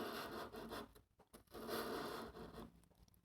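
Sandpaper rubs diagonally along the steel body of an engraving burin, a close, dry scratching in repeated strokes with brief pauses between passes.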